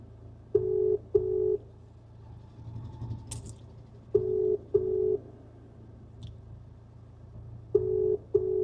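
Mobile phone call connecting but not ringing, with three pairs of short electronic tones spaced a few seconds apart over a quiet low hum.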